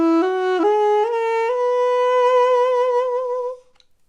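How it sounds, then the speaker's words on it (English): A solo Armenian duduk climbs a full octave major scale in clear stepped notes, each reedy tone held briefly before the next, ending on a long sustained top note that fades out. "if I play the full octave on the duduk, it sounds something like this"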